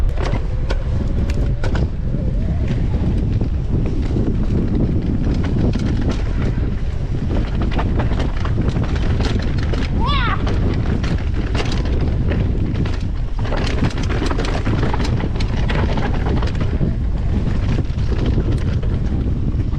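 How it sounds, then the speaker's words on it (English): Strong wind buffets the microphone of a GoPro on an electric enduro mountain bike ride, a loud continuous roaring rumble with gusty bursts throughout and no one speaking. "it is super windy out here"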